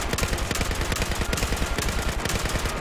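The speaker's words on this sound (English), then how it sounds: "I just got 2 headshots on that guy and he's still alive" Gunfire in the video game Battlefield, a loud, continuous burst of rapid automatic shots in a fast, steady rhythm, close and dense throughout, with no talk over it.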